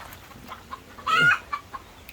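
A single loud chicken cluck, close by, surrounded by a few softer scattered clucks and quiet background noise.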